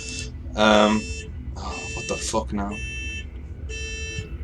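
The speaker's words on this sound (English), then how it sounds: "Is that a car alarm? That's like the most annoying one I've ever heard." A car alarm sounds outside, its repeating harsh electronic tones coming in bursts, with a voice speaking over it partway through.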